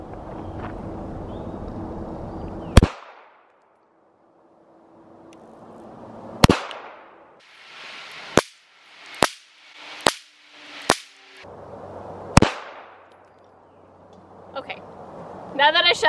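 Walther CCP pistol firing, with sharp, loud single gunshots: one, then a cluster of about six shots at irregular intervals a second or so apart, separated by quiet gaps and stretches of someone talking.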